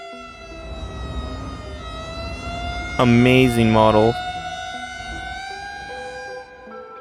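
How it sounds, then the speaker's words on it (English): Emergency vehicle sirens wail in the city-building game Cities: Skylines, steady tonal sirens droning throughout while someone speaks briefly over them partway through. "Sounds kind of like the Chinese sirens"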